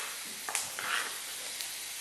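Chopped onions and potatoes sautéing in a pan for a Spanish omelette, a soft continuous sizzle with a few light clinks and stirring scrapes, fairly quiet and close.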